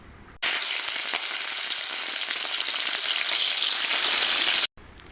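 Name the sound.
shrimp frying in hot oil in a wok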